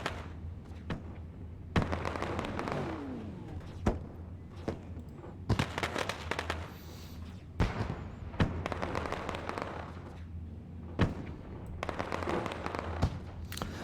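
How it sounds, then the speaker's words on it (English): Fireworks burst over a race track during a Kustom Kut 125 asphalt series night, a string of sharp booming cracks at uneven intervals, some clustered, with crackling between them and a steady low rumble underneath. "Fireworks going off in the background."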